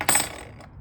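Silver coins are handled, giving one bright metallic clink up close that quickly fades into faint rustling.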